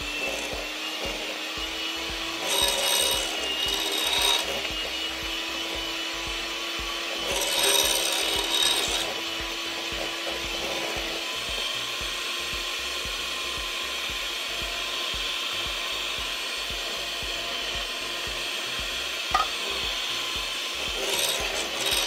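An electric mixer creams muffin batter made with room-temperature buttermilk, giving a steady, faint whirring and scraping in the bowl with a few louder passes, no talk over it.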